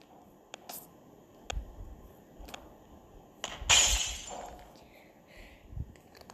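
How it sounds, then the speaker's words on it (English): A glass exterior shatters in one loud, bright crash that sprays brittle fragments and fades over about a second, preceded by scattered sharp clicks and knocks, with quieter ticks following. "Glass exterior has been destroyed."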